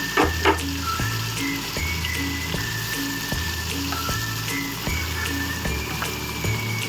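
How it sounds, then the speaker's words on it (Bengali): Chopped vegetables for a spicy semolina dish sizzle steadily in hot oil, a dense crackling hiss with soft spatter pops, close and continuous with a low hum underneath. "এরপর আমি ওই তেলের মধ্যেই এই সবজিগুলো যেগুলো কেটে রেখেছি সেগুলো সব দিয়ে"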